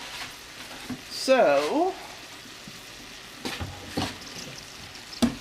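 Fat sizzling in a pan as a roux gets started, a soft steady crackle with a few louder spits, while a person speaks briefly over it.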